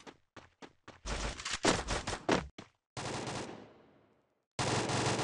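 Gunfire in a Free Fire match: a string of sharp single shots, then rapid bursts of automatic fire, a burst trailing off into a decaying echo, a brief silence, and another loud sustained volley close up.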